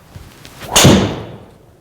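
A Srixon ZX MKII driver striking a golf ball, one sharp loud impact after a few faint rustles, followed by a fading whoosh as the ball flies away.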